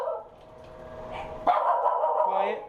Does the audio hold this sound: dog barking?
yes